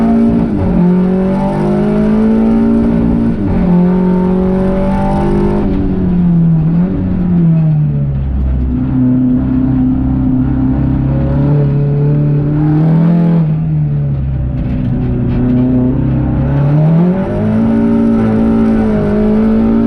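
A TCR touring race car accelerates hard, its engine note climbing and falling through repeated gear changes, loud and continuous with steady drive and no voices.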